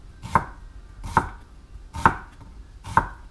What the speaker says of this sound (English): I'm going to cut down so that I cut my onion into sections